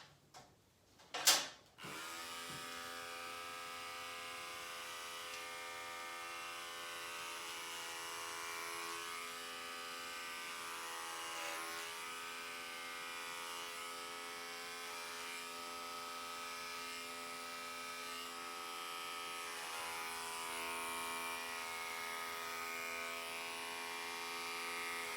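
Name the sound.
hair clippers cutting hair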